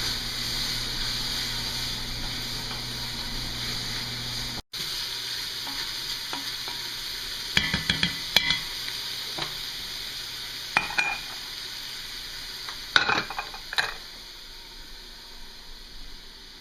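Seasoning mixture with pepper stirred in a pot on the stove while cooking Southern-style collards, a steady sizzling simmer with a few scraping spoon strokes, no talking.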